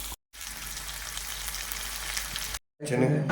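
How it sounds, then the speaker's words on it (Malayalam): Onion and green chili fry and get stirred in a hot pan, a loud, steady sizzle close by, broken by two brief silent gaps, the last burst slightly more scraping and textured. "സവാളയും പച്ചമുളകും ഇതിനും കൂടെ ഇട്ട് മിക്സ് ചെയ്യുമ്പോൾ നല്ല അങ്ങേ മണമാണ് കേട്ടോ"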